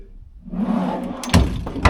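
Two wooden drawers newly fitted in a sailboat cabin are opened and shut, giving soft sliding rumbles followed by a couple of sharp, close knocks near the end.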